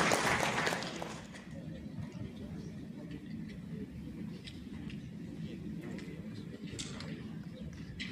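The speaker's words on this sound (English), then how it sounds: "Please give a huge round of applause to acknowledge his tremendous contribution" Conference audience at an international livestock genetics meeting applauds, a dense, moderately distant wash of clapping that swells at first, then settles into steady, even applause with a low hall rumble underneath.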